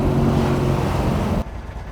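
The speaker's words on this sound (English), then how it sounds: "Idle about 750 to 800 RPMs. Got a nice rumble to the factory camshaft." A 1967 Chevrolet Corvette convertible with the L71 427 V8 and factory camshaft idles at roughly 750 to 800 rpm, giving a loud, steady, close-up low rumble that drops abruptly in level near the end.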